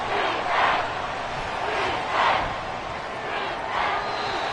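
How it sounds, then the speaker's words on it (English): A stadium crowd at an NFL game between the Cowboys and Redskins in Washington roars steadily, with chanting swells rising and falling in rhythmic waves, loud and continuous. "This crowd turning up the decibel level."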